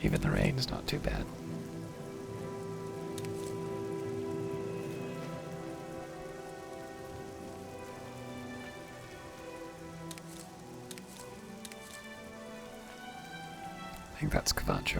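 Rain falls in The Elder Scrolls IV: Oblivion as a constant hiss with faint tonal music beneath it. Brief louder bursts come near the start and the end.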